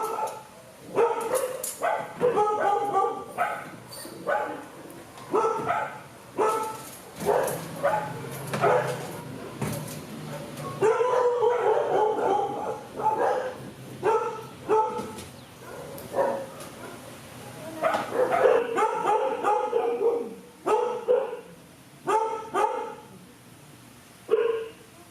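Dogs bark repeatedly in bursts of yips and barks, moderately close, with short pauses between volleys that continue throughout, with no talk over them.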